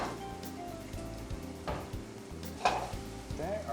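Porcini-crusted ono fish fries in a pan with a steady, close sizzle, broken by a few soft clinks and stirring scrapes, and no one speaks.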